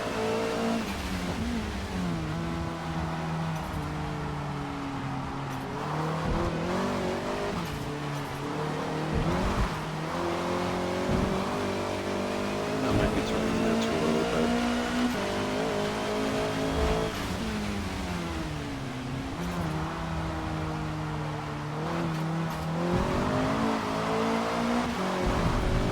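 A Honda #73 Civic race car laps the Nurburgring sprint circuit in Forza Motorsport, its engine revving up and dropping through repeated gear shifts and braking, with occasional tire squeal, loud and continuous from onboard.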